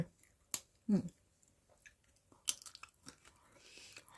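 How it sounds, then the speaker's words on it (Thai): Someone bites into crispy, oven-dried mushroom or fruit, giving a few sharp, close crunches spaced apart with quiet pauses between, followed by softer smaller crackles. "เหมือนขบเคี้ยวขนมเลย"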